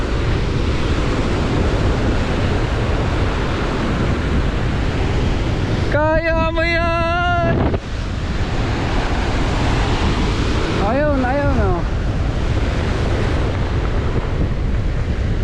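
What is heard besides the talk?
big ocean waves in strong wind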